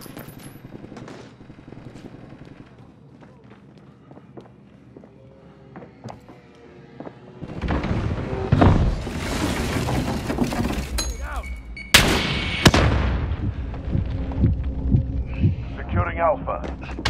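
Call of Duty gunfire bursts rise loud and near in the second half, over a throbbing hum and game voice callouts, with a sharp crack partway through.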